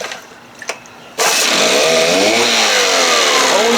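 An Evinrude 6 hp outboard motor takes a quiet pull on its starter cord, then catches and bursts into a loud, steady, buzzing run that continues up close until the end.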